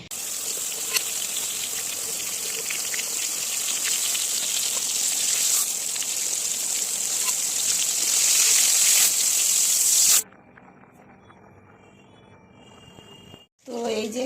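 Chicken lollipops fry in hot oil with a steady, loud hissing sizzle for about ten seconds in a home kitchen during a family celebration meal, then the sizzle drops away to quieter background noise and a brief clatter.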